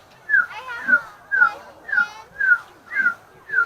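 Seven short rasping, whistled calls repeat at a steady rhythm, each a brief falling note, close and clear against a quiet background. A human voice imitates a saw-whet owl.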